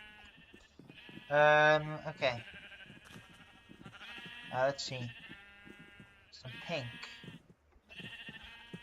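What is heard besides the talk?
sheep bleating in the video game Minecraft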